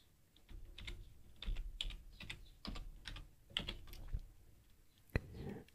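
A computer keyboard is typed on at close range, with soft, quick keystrokes in short bursts and a louder single click near the end.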